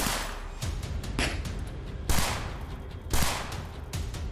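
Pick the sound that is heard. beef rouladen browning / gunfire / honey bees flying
gunfire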